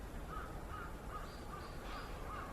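Crows cawing outdoors in Japan, a series of repeated harsh caws at a moderate distance over a loud, rumbling wind-and-traffic background.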